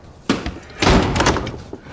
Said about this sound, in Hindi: दरवाजा बंद करो शामा।